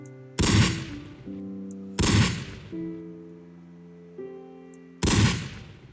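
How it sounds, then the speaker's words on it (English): Three loud, booming shotgun blasts in a modded Minecraft game, spaced a couple of seconds apart, each a sharp crack with a ringing decay, separated by a sustained droning musical tone. "yeah, it's a shotgun."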